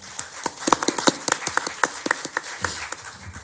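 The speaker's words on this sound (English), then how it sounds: "You just do a final round of applause" Applause from the audience at a law conference panel on international arbitration, a scattered round of claps that fills the room without any talk.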